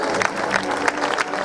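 A brief burst of audience applause at a retro fashion show of 1970s models, a steady wash of clapping of moderate loudness with voices mixed in.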